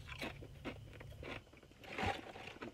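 Close, loud crunching of Kroger Private Selection pimento cheese and harissa potato chips, several sharp bites and chews in quick succession, no talking.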